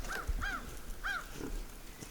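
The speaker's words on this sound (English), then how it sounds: "The crows are all worked up about it." Crows caw in agitation at a hawk on a farm, with three or four harsh, ringing calls in the first second and a half, moderately near, then fading into faint background noise.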